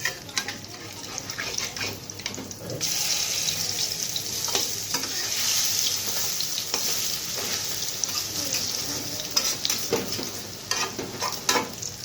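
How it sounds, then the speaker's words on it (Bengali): Poppy-seed stuffed ash gourd leaf fritters frying in hot oil, a continuous bubbling sizzle with intermittent clatter and scraping as they are flipped, close and moderately quiet. "বড়াগুলো ছেড়ে দিই এক এক করে বড়াগুলো উল্টিয়ে দিই"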